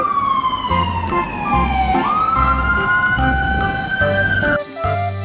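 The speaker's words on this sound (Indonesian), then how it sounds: "ada mobil pemadam kebakaran." Toy fire truck siren wailing loudly and close, a continuous electronic tone sliding down then back up, pulsing with rhythmic bursts, with a short dip near the end.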